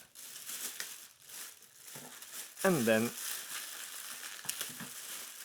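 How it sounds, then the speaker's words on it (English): A clear plastic bag being unwrapped from a Brabantia newIcon steel pedal bin: close crinkling and crumpling rustles in uneven bursts, with someone briefly speaking over them. "opening up the clear plastic bag packaging to reveal the Brabantia newIcon pedal bin"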